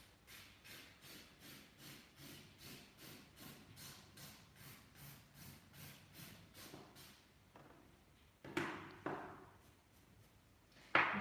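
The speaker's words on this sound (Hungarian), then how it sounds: "Now I change the direction of the filing." A nail file rubs across a square artificial nail in steady, rhythmic back-and-forth strokes, about fourteen even passes close up, then a pause and a few sharper, louder scrapes and handling sounds near the end.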